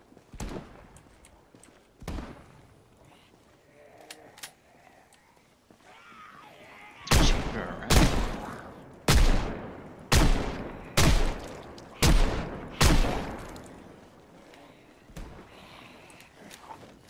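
Pistol gunfire rings out in the zombie survival video game Project Zomboid: about eight loud, sharp single shots at uneven intervals, mostly in a quick series near the end, with quieter game sounds between them.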